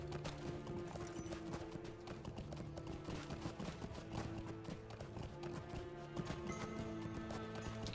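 Horse hooves clip-clop steadily during a ride in the Lord of the Rings Online game, a quick galloping rhythm layered with game music and a whinny.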